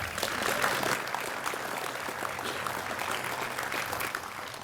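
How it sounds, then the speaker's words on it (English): Applause from an audience at the grand opening of a riverfront park, a steady broadband clatter of many hands that holds at an even level from start to finish with no voices over it. "let's give them a round of applause."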